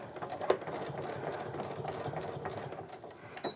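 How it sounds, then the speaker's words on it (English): A sewing machine runs steadily, stitching a tote bag from end to end, a continuous close whirring with small clicks and no talking. "keep on sewing all the way to the end."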